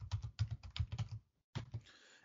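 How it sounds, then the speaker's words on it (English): Close, distinct clicks of typing on a computer keyboard, a quick burst of keystrokes, a brief pause, then a few more taps as a new password goes in. "So I'm going to type in a new password"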